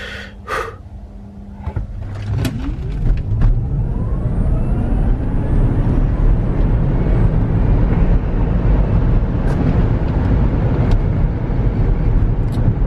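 Tesla car launching hard from a standstill as the brake is released, a rising rush of road and wind noise building quickly after a few brief clicks and rustles inside the cabin.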